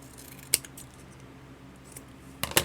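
Scissors snipping through paper ephemera cards, a sharp close snip near the start and a quicker cluster of cuts at the end, with a quiet room in between.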